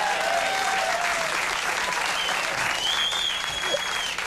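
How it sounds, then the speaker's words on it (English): Digitally added applause and crowd roar on a late-night talk show, a loud, dense wall of clapping and cheering that holds steady throughout, with a few whoops rising above it. "Applause. The huge crowd roar for Steppin' Out."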